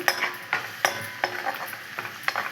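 Onions fry with curry leaves and salt in a pan for a prawn and chana dal curry, with a spoon scraping and stirring in regular strokes over a soft sizzle, near and without speech.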